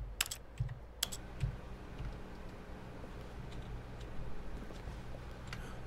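Computer keyboard keys pressed while playing The Stanley Parable: a few sharp, close clicks near the start over a steady hum, then mostly quiet background.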